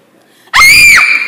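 A woman in a film lets out a single loud, piercing scream lasting about half a second after a quiet lead-in, with a faint tail afterward.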